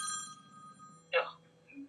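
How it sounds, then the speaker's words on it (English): A phone rings with a steady electronic tone, then a short burst of voice cuts in before the ring fades to a faint tone. "I've got somebody blowing my phone up on this contract I'm doing today."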